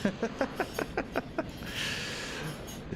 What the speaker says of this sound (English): that's my bunny chewing on the cage.